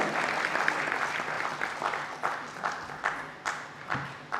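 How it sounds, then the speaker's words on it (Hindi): Audience applause for performers after a ballet about Rani Durgawati by a cultural society in Bhopal, a sustained broadband patter with several sharper swells rising and fading toward the end. "उनके लिए जोरदार तालियां"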